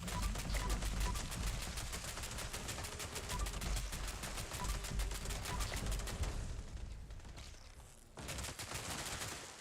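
Sustained rapid automatic gunfire in the video game Fallout 76, a steady stream of shots that thins briefly near the end before resuming, with no talking.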